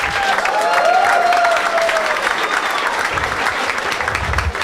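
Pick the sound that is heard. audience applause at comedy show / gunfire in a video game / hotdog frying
audience applause at comedy show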